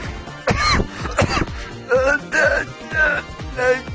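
A person coughs repeatedly in a series of harsh, close, throaty bursts with brief gaps, each loud and raspy, the fits clustered over a few seconds.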